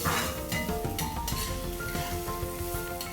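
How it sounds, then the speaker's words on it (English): Finely chopped onion sautéing in hot oil, a close, continuous sizzle punctuated by spoon stirs and light clinks against the pan, with no voices. "Let's add a finely chopped onion to this and saute it till it's nice and soft and pink"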